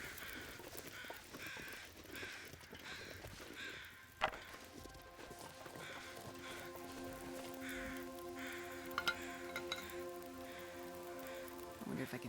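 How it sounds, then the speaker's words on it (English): Crows cawing in the video game The Long Dark, a string of harsh caws at middle distance over a soft patter like rain, with a couple of sharp knocks and a faint voice nearby. "Crows are awfully loud at the moment."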